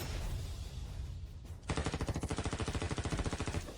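Rapid automatic gunfire from guns in a film scene: after a noisy lead-in, a steady rattling volley of closely spaced shots, loud and continuous for about two seconds.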